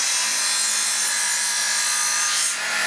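Steady bright scraping of a knife blade drawn along a sharpening stone, continuous and close, with a slight change near the end and no voices.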